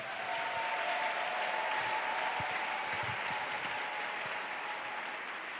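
A church congregation applauds steadily throughout, a dense and sustained clapping from many hands at an even level, with a faint tone and a few voices under it.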